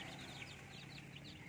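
Free-range chickens and chicks clucking and chirping faintly at a distance, soft repeated calls over a low outdoor background.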